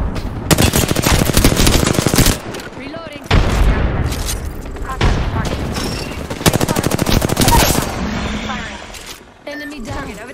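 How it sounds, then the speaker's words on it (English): Apex Legends gunfire on the Storm Point map, loud sustained automatic bursts rattling almost nonstop with brief gaps, heavy booming impacts and game voices mixed in. "They're shooting at me!"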